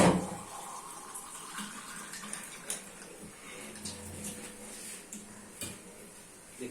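Water poured and splashing into a cooking pot while making traditional beef paya (beef trotters), a steady running rush with faint clinks of pots and utensils, close and continuous.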